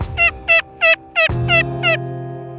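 Wild eastern turkeys gobble along the Duck River in Tennessee, six quick, clear gobbles in a row, close and loud with no talk over them.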